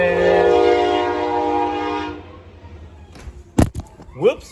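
A train's horn blares loudly as the train passes, holding a steady chord for about two seconds before cutting off. Then come rumbling and a few sharp knocks, with a brief voice near the end.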